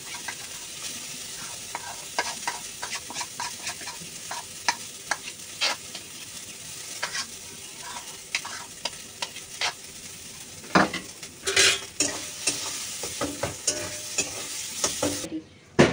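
Ground pointed gourd peel paste frying in hot oil in a wok, a continuous close sizzle broken by frequent scraping stir strokes and crackles, louder bursts near the end.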